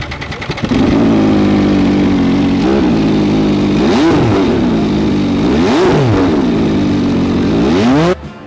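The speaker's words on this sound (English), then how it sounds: "That exhaust is the most obnoxiously loud exhaust you've ever heard on a production bike" A very loud production motorcycle exhaust rumbles close by at a track day, with several sharp revs rising and falling over a steady idle, then cutting off abruptly.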